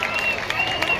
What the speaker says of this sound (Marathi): जरा जोरदार टाळ्याने आपण त्याचं स्वागत करूया.